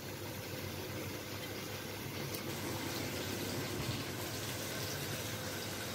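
Water poured into a pan after washing ingredients in a home kitchen, a steady faint rushing stream that runs continuously and alone, with no voices.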